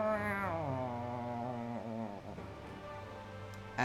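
A cat sound effect plays during a Dungeons & Dragons 5e tabletop session, a drawn-out wavering yowl that holds steady for several seconds before trailing off, loud and alone with no talk.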